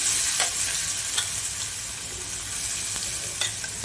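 Sweet corn bhusu mixture sizzles and fries in hot oil while being stirred in a pan, a steady close crackle with a few sharper scraping clicks of the spoon, no voices.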